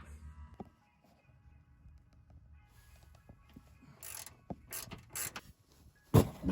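A wrench loosens a tight bolt on a Honda Ridgeline rear strut: quiet creaks and ratcheting clicks build to a few sharp metallic snaps and clanks near the end.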